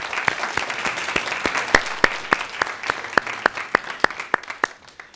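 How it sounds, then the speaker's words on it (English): An audience at a student government candidate forum applauds steadily, many hands clapping in a dense, even patter with some louder claps standing out, sustained for several seconds. "Let's give her a round of applause, please."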